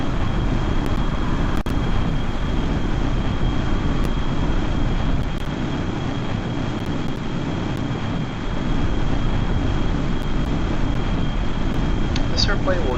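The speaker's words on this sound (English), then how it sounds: "And then you know, afterburner can kick in." A jet engine afterburner roars without a break from a simulated F-18 in Kerbal Space Program. The sound is loud, dense and constant, with no talking.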